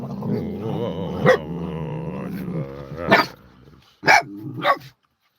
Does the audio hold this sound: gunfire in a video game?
no